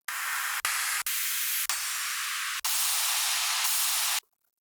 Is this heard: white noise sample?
yes